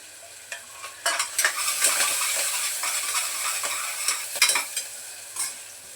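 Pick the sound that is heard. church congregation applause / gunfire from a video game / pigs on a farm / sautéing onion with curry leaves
sautéing onion with curry leaves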